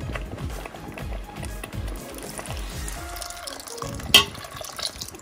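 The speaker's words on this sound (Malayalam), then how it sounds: "ഇനി നമുക്കിതിലേക്ക് നമുക്ക് എടുത്തു വച്ചിരിക്കുന്ന തേങ്ങാപ്പാൽ അതിൻ്റെ രണ്ടാം പാൽ ഒഴിച്ചു കൊടുക്കാം" Second-extract coconut milk is poured into a pan for aval and dates pradhaman, a running liquid pour with rhythmic stirring scrapes, then a brief sharp clink near the end.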